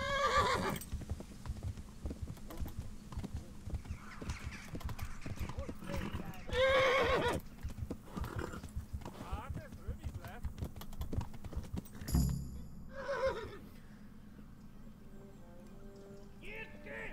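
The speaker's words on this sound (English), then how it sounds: "My horse won't go no faster!" Rapid hoofbeats of a galloping horse in the video game Kingdom Come: Deliverance clatter steadily under excited, shouting voices, with a horse whinnying briefly partway through.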